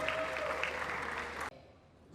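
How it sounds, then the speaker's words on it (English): Forum audience at a youth business event applauding, a dense steady wash of clapping that cuts off abruptly partway through, leaving quiet room tone. "A round of applause for all of us."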